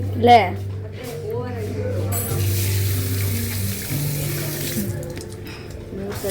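Steady running water from a tap flows throughout while people talk over it.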